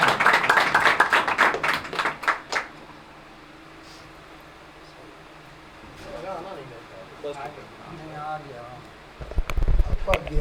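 An audience claps to welcome a guest onto a stage, a burst of dense applause at the start that stops abruptly, followed by quiet room tone and scattered talk, with more bumps and voices near the end.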